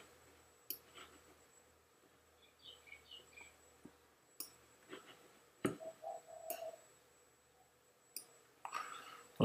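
Sharp computer mouse clicks, several spread irregularly and separated by quiet gaps, with soft handling noise while a selection is dragged in image-editing software; no talking.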